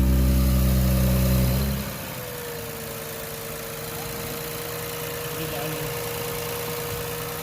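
An Infiniti Q50/Q60 fitted with an HKS blow-off valve idles steadily nearby after a louder start-up surge in the first two seconds, settling into a continuous low drone.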